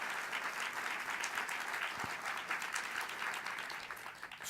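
Audience applause at a panel event releasing a carbon-free city report, a steady, dense wash of clapping that holds at even loudness throughout without pause.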